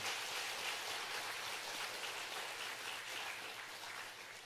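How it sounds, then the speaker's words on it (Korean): A church congregation applauds a Korean War veteran, a steady wash of clapping from many hands filling the room at moderate level and slowly tapering off, with no talk over it. "우리 같이 박수하도록 하겠습니다"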